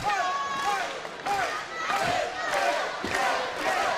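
A big arena crowd at a cage wrestling championship roars in repeated surges, loud waves of cheering and chanting that swell and dip every second or so, with an announcer talking over them.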